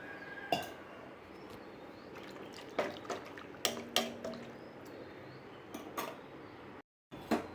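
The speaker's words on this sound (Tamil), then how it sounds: "இதுக்கு தேவையான அளவு தண்ணியும் கொஞ்சம் ஊற்றிக்கலாம்." Water is poured into drumstick sambar cooking in a pot in a home kitchen, heard as quiet trickles and drips broken by a few sharp clinks of a metal vessel, with no talking.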